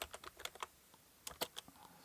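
Quick bursts of typing on a computer keyboard, entering a place name into a map search bar, with clustered clicky keystrokes, a short pause, then another flurry, close and fairly quiet with no talking.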